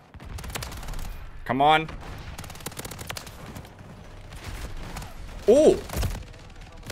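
Rapid bursts of gunfire from a Space Marine style shooter video game rattle out in repeated volleys, with a player's excited voice breaking in between the shots.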